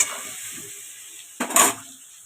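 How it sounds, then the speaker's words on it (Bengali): Potatoes frying in a pan with salt and turmeric give off a steady, soft sizzle, broken once near the end by a short, louder burst of stirring or scraping. No voices are heard. "ভালো করে আলুটাকে ভাজতে দিই"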